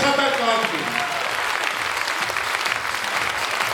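Sustained applause from an audience at a basic school's graduation last-bell ceremony in Vayk, greeting the school staff; dense, even clapping fills the room while a voice speaks over its start.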